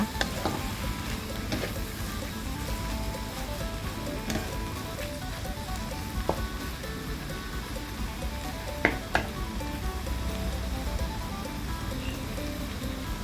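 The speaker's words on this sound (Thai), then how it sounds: "แล้วก็เราก็ผัดผักกาดขาว ไปสักพักหนึ่งนะคะ" Napa cabbage stir-fried in a pan for a home-style glass noodle dish gives a steady close sizzle and crackle, with a few sharp utensil clinks against the pan.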